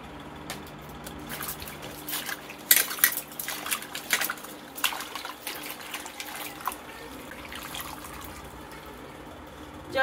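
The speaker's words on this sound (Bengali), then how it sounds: "এগুলোকে জলে ধুয়ে নেব।" Peeled water lily stems are washed in water in a kitchen, with splashing, dripping and the clatter of a pot or utensils, moderately loud and close, with no talking.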